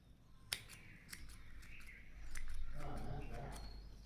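Scissors trim the kuchu threads on a saree tassel. A few sharp, close snips sound, one louder than the others, then a soft rustle of thread follows. All of it is faint and runs under a low background hum.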